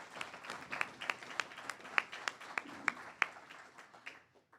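Scattered clapping for a graduating resident at an internal medicine residency graduation, a few distinct hands slapping in an uneven rhythm, fairly faint, tapering off to quiet at the end.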